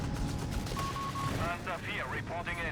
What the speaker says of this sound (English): Pack gun getting some good shots on the Matilda.